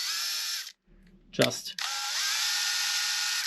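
A hand drill boring into a part of a 1/14.5 scale Liebherr R960 SME excavator model, a high whirring spin that stops briefly and then resumes, close, with a short spoken word in the gap.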